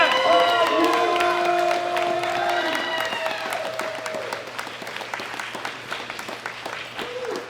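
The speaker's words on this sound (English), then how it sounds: "a huge round of applause for Taylor!" Crowd applauds and cheers for a reigning world champion at the World Classic Powerlifting Championships 2018, men's open 74 kg; dense clapping with whoops rises behind a lingering amplified tone, then settles into steady applause.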